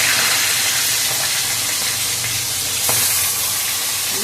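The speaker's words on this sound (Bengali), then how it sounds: "আমি এবার মাংসটাকে তেলের উপর ছেড়ে দেব আমি মাংসটাকে ভেজে নেব" Meat frying in hot oil makes a steady, loud sizzle with a dense hiss that goes on without a break, with occasional faint crackles and stirring noises on top.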